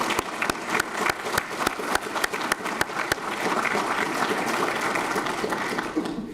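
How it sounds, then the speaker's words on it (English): A room full of people at a university ROTC commissioning ceremony breaks into steady applause for veterans, with a few loud, close claps punctuating a dense wash of clapping that holds throughout. "So please give all the veterans in this room a round of applause."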